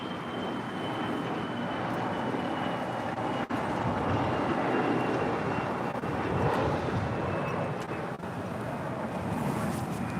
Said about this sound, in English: Now coming in, this is Turkish Airlines Flight 179 coming in from Istanbul on a 787-9